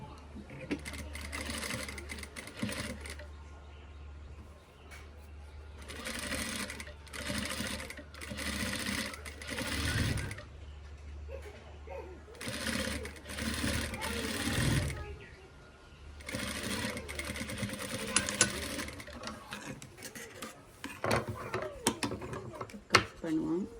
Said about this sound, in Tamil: முதல்ல வந்து கழுத்து தான் தைக்க போகிறேன் வளமைய மாதிரி